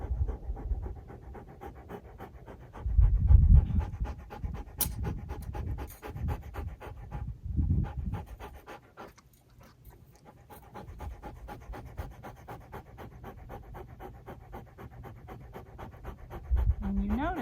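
A lost dog tangled on a post pants softly and steadily nearby, with faint rustling and low handling noises around it.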